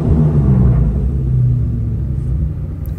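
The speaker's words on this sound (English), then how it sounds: "Take a pause for a rev here." Engine of a 1999–2004 New Edge Ford Mustang giving a deep, loud low rumble close by that swells briefly then settles into a steady throb, no voices.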